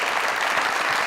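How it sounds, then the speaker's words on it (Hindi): A studio audience at a comedy talk show claps steadily, a dense and close burst of applause that lasts about a second without pause. "जोरदार तालियां"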